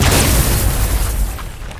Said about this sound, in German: Ich habe auf den Kristall geschossen, aber er leuchtet schon wieder.